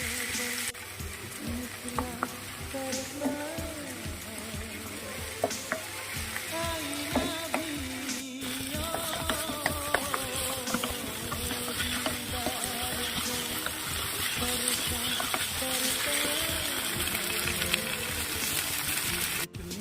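Ginger garlic paste sizzles and fries in a pan for a spicy mutton curry, a steady crackling hiss with scraping stirring strokes throughout.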